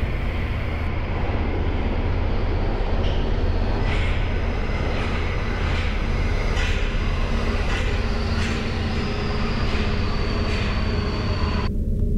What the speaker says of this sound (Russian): А тем временем издалека уже ехал поезд.